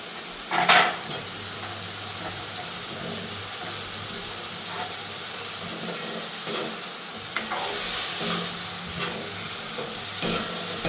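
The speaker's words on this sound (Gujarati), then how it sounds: "એમાં આપણે આ બધા ગટ્ટા આપણા નાખી દઈશું" Methi gatta, fenugreek gram-flour dumplings, go into a Kathiyawadi gravy with oil pooled on top and are stirred; a steady close sizzle runs throughout, broken by a few sharp scraping stirs against the pan over a low hum.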